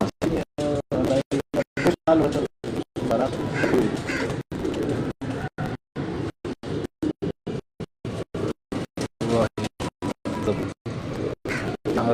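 Pigeons on a rooftop in Karachi, a champion flock kept by a pigeon fancier, give soft cooing calls close by, broken up by frequent short gaps.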